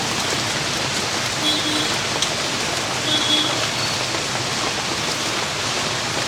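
Rain falls steadily during an outdoor food-offering for sadhus in Tiruvannamalai, an even, close hiss of drops on surfaces with a faint bird chirp in the background.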